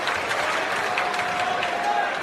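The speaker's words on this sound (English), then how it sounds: "Crowd applauding his decision" A rugby league crowd at Leichhardt Oval, during a police tri-series match, applauds the referee's decision in a diffuse, distant roar of clapping beneath a commentator's voice.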